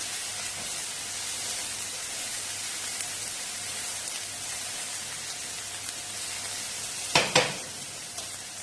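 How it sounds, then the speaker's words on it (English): A knob of butter melts in a pan for Moroccan chicken risotto, giving a steady, even hiss of sizzling fat that runs throughout, with a couple of brief utensil clinks near the end. "throw in a knob of butter. Stir that in so it starts to melt"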